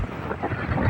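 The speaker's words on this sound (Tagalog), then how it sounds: "Malakas na hangin dito sa taas guys." Strong wind buffets a ferry's upper deck at sea, a continuous loud rumbling roar of wind against the microphone with broadband gusting and no speech.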